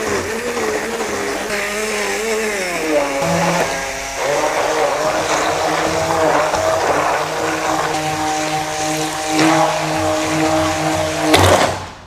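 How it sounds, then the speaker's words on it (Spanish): Electric blender whipping tofu into a cheesecake filling, a steady loud motor whir that shifts pitch several times as the mixture thickens, ending with a brief clatter. "Voy a ir batiendo y lo vais a ir viendo."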